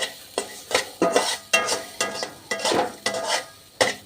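Nigella seeds dry-roasted in a pan, stirred with a utensil in a steady series of about ten crisp scraping strokes, close and clear, with a faint sizzle beneath.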